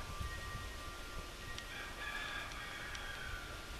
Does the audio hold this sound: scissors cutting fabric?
no